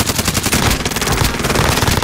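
Loud, dense automatic gunfire from the video game Call of Duty: Modern Warfare, a continuous rapid rattle of shots filling the whole moment with no pauses.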